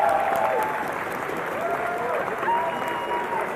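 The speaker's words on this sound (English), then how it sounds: "Can we give them a round of applause, please?" An esports audience at the League of Legends Grand Finals between CLG and TSM applauds steadily for the whole stretch, a dense wash of clapping that rises and falls slightly. Voices come through faintly underneath.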